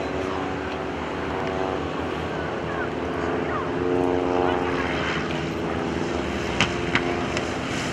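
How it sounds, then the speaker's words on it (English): Team RV propeller airplanes setting up to land at the 2011 Greenwood Lake Airshow, a steady droning engine hum with shifting pitch as they pass at moderate distance, with an announcer's voice under it. "Team RV, yes they are, they're setting up to land"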